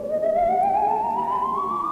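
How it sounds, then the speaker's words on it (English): Spooky Halloween ghost ship sound effect: a steady eerie tone slowly gliding upward over a low rumbling bed, loud and continuous, with no talking. "That's the sound of Spooky Halloween Sound Effects Collection Volume"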